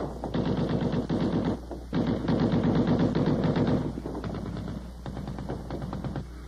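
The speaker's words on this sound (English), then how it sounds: "One weapon we get to know very well was the .50 caliber machine gun." A .50 caliber machine gun fires long, rapid sustained bursts, loud and close, with a short pause between volleys and steady rattling repetition throughout.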